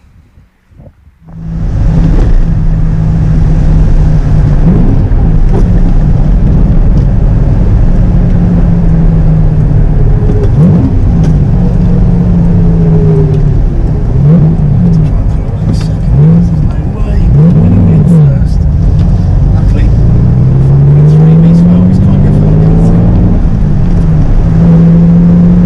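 A classic car cruising on the motorway on a drive to Le Mans sends a loud, steady engine drone mixed with wind and road roar, with a voice talking over it throughout.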